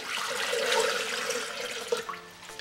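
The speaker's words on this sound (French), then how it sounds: "Dans le bol Thermomix, ajoutez les 800 g d'eau." Water pours into a Thermomix TM5 bowl, a close gushing splash that runs steadily and then tapers off into a few trickles and drips.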